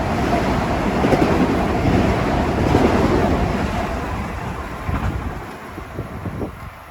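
An M9 subway train rolls past at Kew Gardens in Queens, a loud, continuous roar of wheels and rumble close by that slowly eases off over several seconds.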